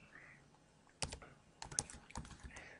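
Quiet, irregular clicks of typing on a computer keyboard, a few scattered keystrokes and short clusters over a faint background hiss.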